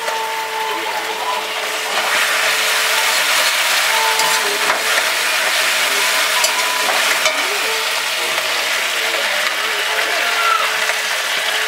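Ginger garlic paste sizzling and frying in a pan in a village kitchen, a steady bright hiss with occasional stirring scrapes and clicks throughout.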